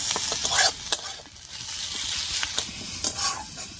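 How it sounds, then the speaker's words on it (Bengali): Grated garlic and ginger fry with well-browned onions in a pan for a bitter gourd dish, making a steady sizzle. Repeated spatula strokes scrape and click against the pan as the mix is stirred, with no voices. "এবারে আদা আর রসুনটাকেও পেঁয়াজের সঙ্গে বেশ কিছুক্ষণ রান্না করে নেব"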